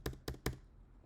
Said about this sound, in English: I just hit T on my keyboard.